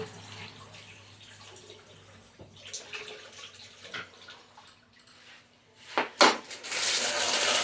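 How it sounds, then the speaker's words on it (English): Running tap water rinses out a frosting piping bag at a kitchen sink, a steady close splashing stream with a sharp louder burst of water near the end. "Gonna rinse this because this color is darker than the other one."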